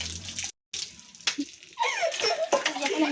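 Water running from a tap for hand washing, a splashing gush broken by a brief silent cut, then returning with bursts of background laughter and voices.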